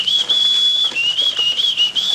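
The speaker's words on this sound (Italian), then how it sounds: "Non so fischiare." A person whistling a wavering high tune in short phrases, close and fairly loud, with small breaks and pitch slips between notes and no talking.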